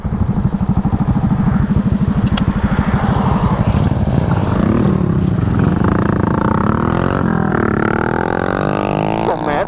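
A 125cc motorcycle at full throttle in fourth gear, its engine droning loud and close throughout with a steady pulsing rumble whose pitch climbs and shifts as it accelerates on an open road.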